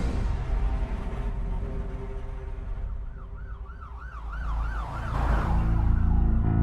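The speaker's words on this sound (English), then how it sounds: "pulled up to the hospital with his sirens on" An ambulance siren wails in a rising and falling pattern over a loud rumble of traffic, growing nearer and louder toward the end.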